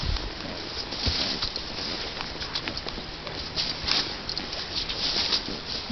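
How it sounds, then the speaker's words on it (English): Birds chirp in short, scattered bursts through a forest of secondary growth, heard over soft trail noise and faint hoofbeat patter as a horse moves along. "Lots of birds out today."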